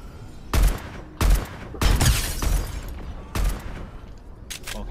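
Gunfire in the video game Fortnite on Nintendo Switch, several loud sharp shots and short bursts at irregular intervals, close and punchy with a low boom, no talk over it.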